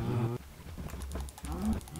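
Cows mooing in the Minecraft video game, a couple of low lowing calls at the start and again near the end, with soft clicking in between.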